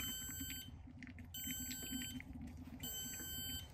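A high electronic beeping tone sounds in repeated pulses as an automatic fuel transfer pump auto-stops at full, over a steady low mechanical hum of the running pump, fairly quiet.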